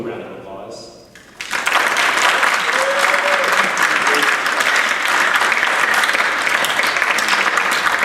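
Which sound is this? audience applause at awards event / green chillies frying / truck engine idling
audience applause at awards event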